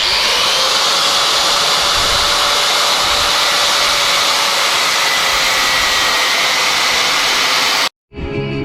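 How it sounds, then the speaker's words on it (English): An angle grinder cuts through the front section of a steel truck tray on an ex-Army Unimog, a loud continuous high whine held steady for about eight seconds before stopping abruptly. "We're trying to take off the front part of the tray with the angle grinder."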